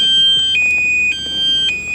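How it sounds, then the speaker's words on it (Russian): A loud electronic car alarm on a Mitsubishi Pajero blares with steady high-pitched tones that pulse in a repeating cycle, with no voices. "У него что, еще и сигнализация есть?"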